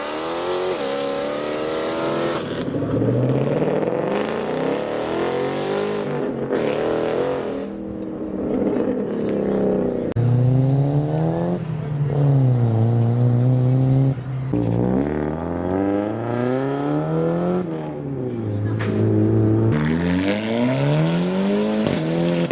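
A V8 Mustang leaving a car show revs hard repeatedly, its engine tones climbing and dropping in several loud bursts with gaps between, close and dominant, no talk.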